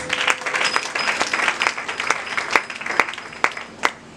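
A congregation claps together during a French-language church service, a dense, steady wash of many hands with sharper individual claps popping out near the end, fairly close and continuous with no talking.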